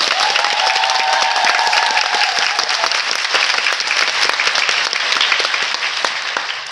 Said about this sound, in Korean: 우리 원캐스트와 스태프분들에게 큰 박수 한번 부탁드립니다